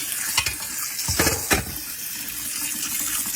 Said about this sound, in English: we're going to make sure to rinse off the cedar really well